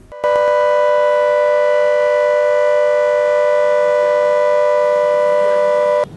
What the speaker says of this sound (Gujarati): 11 વાગ્યાના ટકોરે સાયરન વાગતા